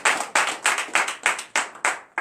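A congregation at a French-language morning prayer service claps in steady unison, about eight sharp, evenly spaced claps at a brisk, regular tempo, loud and clear with no talking.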